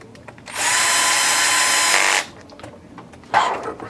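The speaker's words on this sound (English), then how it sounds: "So we'll go ahead and start screwing stuff together here." A power drill drives screws during assembly of an Axial Yeti XL model kit, one steady close whirring burst of about a second and a half, followed later by a shorter rising spin-up, with faint handling clicks between.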